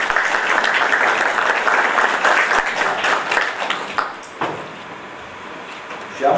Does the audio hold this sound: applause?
yes